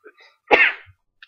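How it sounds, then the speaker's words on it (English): A single sharp sneeze, loud and close, preceded by a faint breathy intake and followed by quiet. "Sneezes."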